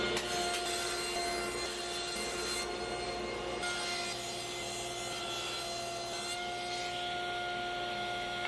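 A saw cutting wooden closet shelves to length, with a steady, continuous rasping cut that runs close and loud throughout, with brief shifts in intensity as the blade works through the board.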